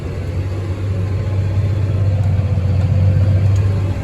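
A farm vehicle hauling a full load of corn pulls out onto a road, its engine giving a steady, loud low rumble that holds constant with no voices over it.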